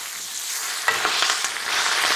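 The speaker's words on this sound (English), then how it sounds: "We're gonna saute some greens while we're at it." Fresh chard sizzling and crackling in a hot pan, a steady hiss with bursts of sharper spitting as it is stirred, close and fairly loud.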